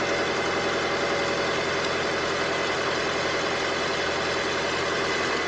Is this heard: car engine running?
yes